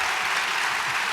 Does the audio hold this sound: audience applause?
yes